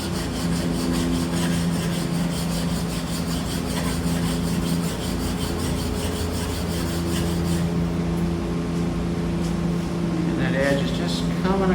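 A steel chisel edge rubbed back and forth on a sharpening stone, a steady close rasping scrape running throughout over a constant low hum, with a few faint squeaks near the end.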